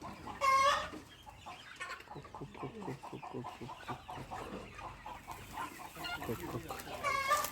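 A crowded flock of chickens clucks at a big farm in Maharashtra, steady overlapping clucks with a few louder squawks at the start and end, a voice talking faintly underneath.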